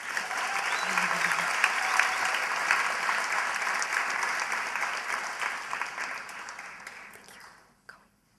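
A high school graduation ceremony audience breaks into steady, dense applause that holds for several seconds, then gradually fades and dies out near the end, with a faint voice briefly heard beneath it.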